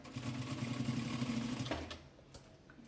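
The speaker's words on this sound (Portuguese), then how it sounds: "E vou começar a fazer a nossa costura, já prendendo o nosso debrum." A sewing machine stitches binding onto fabric with a steady, close mechanical hum and rapid needle chatter for nearly two seconds, then stops, leaving a couple of small clicks.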